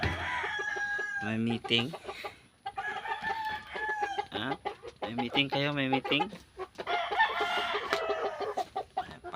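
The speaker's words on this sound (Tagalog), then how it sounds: "Pabo, pato, manok. Andyan talaga kayo lahat." Turkeys, ducks and chickens kept as backyard poultry cluck and crow close by, with repeated crowing calls and busy clucking throughout while a person talks over the birds.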